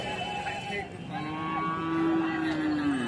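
Cattle at a village livestock market where bulls and calves are sold give a long, rising moo up close over a murmuring background of the crowd.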